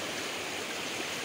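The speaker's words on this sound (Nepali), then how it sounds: "यो चाहिँ खोला, खासै ठुलो खोला होइन" A small, shallow stream runs nearby with a steady, soft rushing and gurgling that is even and unbroken, fairly quiet and with no voices.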